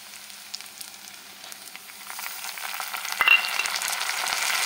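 Chopped sponge gourd and chana dal frying with onions in a pan for a low-oil sabzi, a quiet sizzle that swells into a louder hiss with a sharp stir or clatter partway through, no talking.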